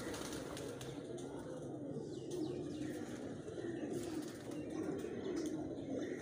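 Soft pigeon coos murmur continuously over a low, busy rumble from a rooftop flock with chicks, with occasional faint wing flutters, close by and steady.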